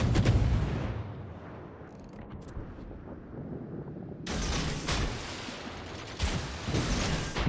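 Enemy naval shell fire striking and landing around a warship in World of Warships: a loud rumbling salvo at the start, quieter distant thuds, then a burst of heavy impacts and crashes toward the end.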